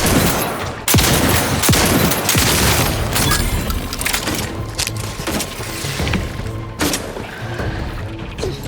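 Gunfire in The Outer Worlds 2 video game: a series of sharp, loud shots and booming impacts at irregular intervals, some in quick bursts, over a low background rumble.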